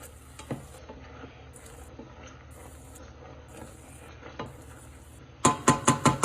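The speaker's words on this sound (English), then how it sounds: "Let's bring it back to a rolling boil" Spicy pickle brine at a rolling boil in a small pot on high heat, low bubbling and simmer noise with faint clinks, then a run of sharp rhythmic scraping stirs near the end.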